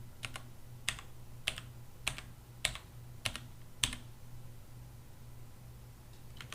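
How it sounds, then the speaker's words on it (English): Quick keystrokes on a computer keyboard, about seven crisp clicks at a steady pace, then a pause, over a faint background hum. "if I start typing in biology at just a regular typing speed"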